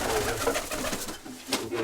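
Pigeons coo inside a dovecote kept for racing birds, soft throaty calls repeating close by over a dense, noisy background.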